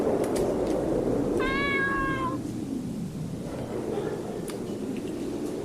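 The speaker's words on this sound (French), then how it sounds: "Ah, un chat, on va voir si on peut l'aspirer." A cat gives one clear, drawn-out meow close by, heard over a steady low background hum with a few faint clicks.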